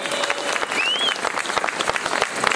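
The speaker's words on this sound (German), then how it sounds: "Ja, yeah, Applaus!" Applause from a crowd of over 150 people at an outdoor street demonstration, a steady patter of many hands clapping with a few scattered sharper claps and a faint whistle.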